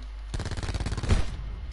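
Rapid automatic gunfire in a shooting video game, a quick burst of about a dozen close, loud shots in tight rhythm lasting just over a second.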